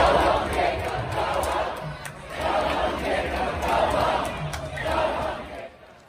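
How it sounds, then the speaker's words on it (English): A large outdoor crowd of protesters jeers and shouts at the Minneapolis mayor in loud, dense, sustained waves that swell and dip before fading at the end. "And the mayor was booed off stage."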